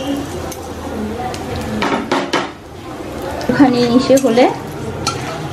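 Chopped onion and slit green chillies drop into hot oil for tempering while making chole bhature, giving scraping and clattering of a spoon in the pan with a brief sizzle near the end, under a voice.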